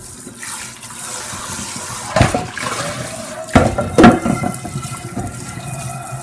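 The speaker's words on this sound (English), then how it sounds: "the sprayer and get down low and not turn the sink on high enough that it's going to then spray at me when I spray it" A kitchen sink sprayer rinsing a pan, giving a steady close hiss of running water with a few louder splashes and clunks as the pan is handled.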